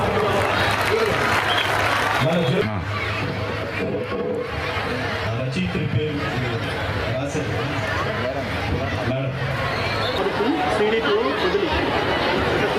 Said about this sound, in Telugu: సుధామాధురి గారికి ఒక్కసారి చప్పట్లు కొడదామా